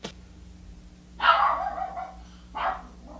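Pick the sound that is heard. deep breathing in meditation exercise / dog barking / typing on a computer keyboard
dog barking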